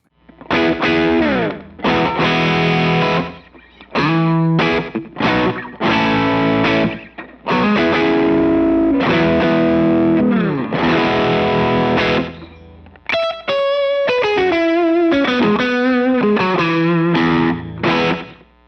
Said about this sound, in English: There's a lot of options you can do with a slapback delay.